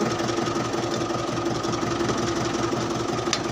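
Mahindra 575 DI tractor engine running at a steady idle, close and loud, with a continuous rapid knocking diesel chug and no pauses.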